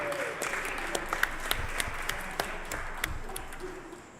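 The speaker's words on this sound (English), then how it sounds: "Can we get a round of applause for Alex and Howard Hitton Mark II?" An event crowd applauds a robot builder and his combat robot at a robot fighting competition, a sustained wash of clapping with sharper individual claps standing out, fading slightly toward the end.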